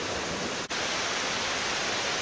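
The waterfall at Cascadas el Fresno in the State of Mexico sends up a steady, close rushing roar of falling water that is loud and unbroken apart from one brief dip.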